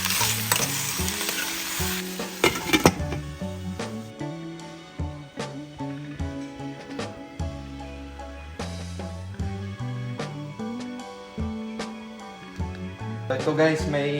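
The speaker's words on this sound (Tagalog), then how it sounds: "nilagay ko na nga po dito ang karne. And then, sasangkutsahin lang po natin to" Meat sautéed in a pot for lugaw sizzles with a bright hiss for the first few seconds, then is largely buried beneath a steady melodic music track.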